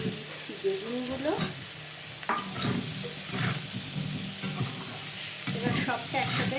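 Eggplant pieces fry in hot oil while being stirred, a continuous loud sizzle broken by scraping spatula strokes against the pan.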